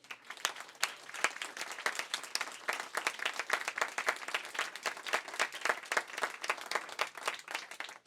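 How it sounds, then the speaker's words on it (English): An audience at Mojo Books & Records in Tampa claps through a sustained round of applause during a book tour event, crisp individual claps sharp and continuous for several seconds, moderately distant and unaccompanied by talk. "So give yourself a round of applause"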